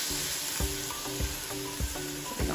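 Shrimp sizzles loudly in a small pan, a dense continuous frying hiss broken by regular, evenly spaced clacks from stirring or shifting the pan.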